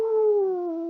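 A person imitates a wolf howling with the voice, one sustained, slightly falling howl lasting about a second, close and fairly loud, with no other sound around it.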